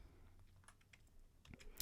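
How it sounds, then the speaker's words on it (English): Quiet computer keyboard presses for a Control D shortcut, a few faint clicks scattered through the clip and a sharper cluster of keystrokes near the end, with no talking. "all I'm doing is hitting Control D on my keyboard"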